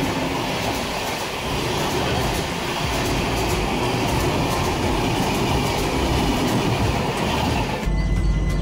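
The Anand Vihar–Naharlagun Arunachal AC Superfast Express passes close by with a loud, continuous rumbling roar and rhythmic wheel clatter, ending in a sudden shift near the close.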